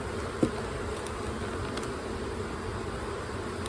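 A steady, dense buzzing of many honey bees in an open hive fills the air, close and continuous, with a faint tap early on.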